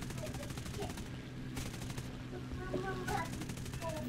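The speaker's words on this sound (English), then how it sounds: "It's great how the 50 cals sound like 50 cals and not 762s." .50 cal machine guns firing in War Thunder during a P-51H Mustang dogfight, short rapid bursts of chattering fire separated by pauses, fairly faint under engine drone and occasional voices.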